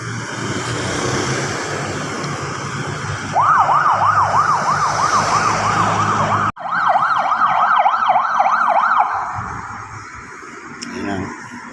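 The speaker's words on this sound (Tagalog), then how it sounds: "Dumating na ambulansya." An ambulance siren wails loud and close on a road after a motorcycle accident, its rising and falling tone cycling steadily over traffic noise, briefly cut off and then resuming before fading slightly.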